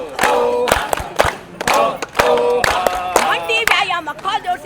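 Group at a laughter-yoga style session chanting and shouting in rhythmic bursts with sharp hand claps punctuating the voices, close and lively, pausing briefly between phrases.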